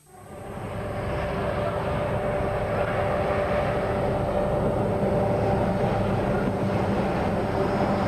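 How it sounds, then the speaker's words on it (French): A suburban train on the Côte Bleue coastal railway line fades in over the first second, then holds as a loud, continuous rolling rumble with a faint high whine, and no voices. "cette ligne ne connaît que les trains de banlieue et les citernes d'hydrocarbures"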